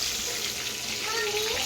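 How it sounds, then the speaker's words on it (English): Deer liver frying in a pan, a steady close sizzle with continuous hiss filling the whole stretch, no pauses or talk over it. "Now we're frying our liver"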